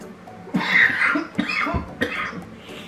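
Several harsh, raspy coughs close to the microphone, coming in bursts over a few seconds with brief pauses between.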